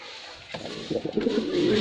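A bright red male pigeon and a newly brought hen coo softly in a short, close burst of low, throaty murmurs that build after a brief quiet start.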